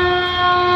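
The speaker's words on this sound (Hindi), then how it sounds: "शंखनाद" A conch shell is blown at an annual conference and talent awards ceremony, giving one steady, loud, brassy tone that holds through the whole short moment.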